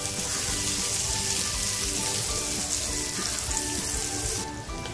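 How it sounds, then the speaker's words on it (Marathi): Hot oil tempering with asafoetida, curry leaves and red chili powder sizzles loudly and steadily as the tadka is poured into a chutney, a dense continuous crackle that cuts off sharply at the end. "हिंग टाकते, थोडासा लाल मसाला टाकून हा तडका ह्या चटणीमध्ये देते।"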